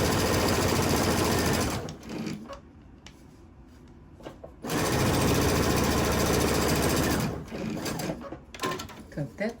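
A sewing machine pieces T-shirt quilt blocks in two loud, steady, close runs of motor drone, separated by a quieter pause with faint handling noises and a brief final burst of stitching; a voice talks at moments.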